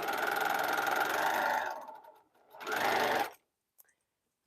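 A sewing machine stitches a partially sewn quilt block in two loud, steady runs, pausing briefly between them and then stopping into silence.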